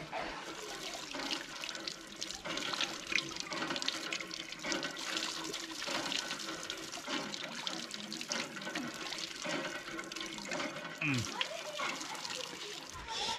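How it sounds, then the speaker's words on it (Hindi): Water runs from a tap as plates are washed outdoors, a continuous hissing, splashing flow with uneven spatters, fairly faint, with people talking in the background. "ये थाली पहले धोने जा रहे हैं। अच्छा, वहाँ पर नल है"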